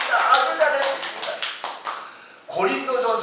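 A Korean church congregation at an Easter service claps in a quick, fairly rhythmic burst, then a voice speaks loudly right after the applause fades.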